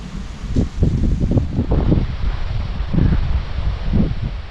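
Strong gusts of wind before rain buffet the microphone in rough, low rumbling bursts, with leaves rustling and no voices.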